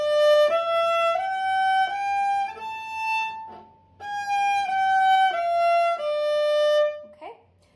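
Bowed string exercise played alone on a sustained instrument, a series of smooth, steady held notes stepping up and down in two phrases with a short pause between, ending on a ringing harmonic A, close and clear without any talking.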